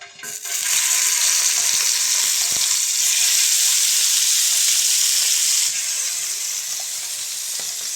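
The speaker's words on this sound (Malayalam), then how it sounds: "നമുക്ക് മീൻ വറുക്കാം." Fish sizzles steadily in hot oil in a frying pan, a loud continuous bright hiss that sets in within the first second and eases slightly toward the end, with no talking.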